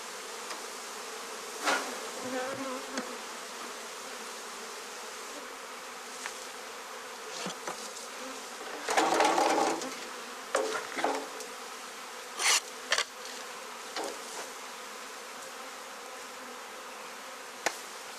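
A dense, steady hum of many honey bees buzzing as they are shaken into packages fills the clip, with occasional louder rustling bursts and thumps standing out against the constant drone.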